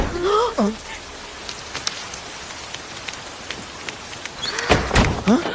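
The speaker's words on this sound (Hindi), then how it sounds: "ऐसे अचानक बारिश आ जाती है क्या?" Sudden rain falls throughout, a steady hiss of drops on surfaces with a few sharper splashes and knocks, while people talk over it nearby.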